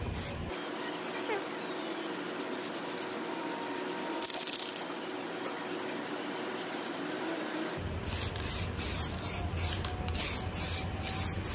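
Samurai spray paint hisses steadily onto old Daichi motorcycle mag wheels, a continuous close spray with a brief louder burst in the middle and rubbing and handling noises near the end.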